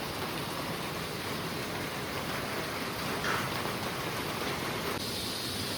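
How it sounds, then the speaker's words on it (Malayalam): Steady rain falls in a home setting in Kerala, a continuous even hiss with no breaks, moderately loud and without speech. "നല്ല മഴയാ."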